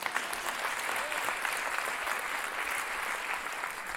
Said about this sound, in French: Oui, vous pouvez applaudir là.